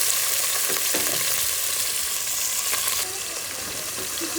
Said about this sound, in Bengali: এখন সবগুলো ভালো করে নেড়ে ছেড়ে দিতে হবে